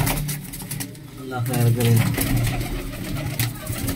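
Pigeons cooing in a Faisalabad loft, a low steady purring coo running throughout under a voice talking over it.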